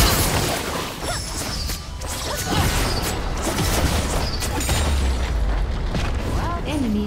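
League of Legends turret being destroyed, a crunching boom and crashing impacts amid busy game effects, with a voice speaking over the noise.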